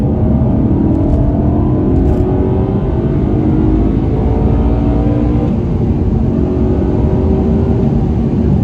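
A BMW E92 M3 with a manual gearbox accelerates hard in fourth gear on a country road, its engine a loud, rising drone that climbs steadily throughout with no voices over it.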